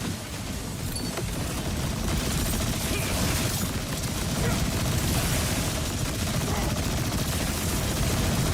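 Rapid SMG gunfire from the video game Borderlands 4 rattles on continuously and loudly for the whole stretch, a dense fusillade of shots with mechanical clatter and no pauses.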